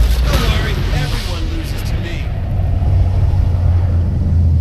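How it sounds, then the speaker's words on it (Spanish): A nuclear explosion in the video game Saints Row IV, heard as a loud, sustained deep boom and rumble that rolls on steadily, with excited speech breaking in near the start. "Haces una puta explosión nuclear. Con setita."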